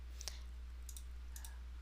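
Computer mouse clicks while a quiz is built in Google Forms: about three sharp, close clicks, spaced through the quiet with a faint steady hum underneath and no talking.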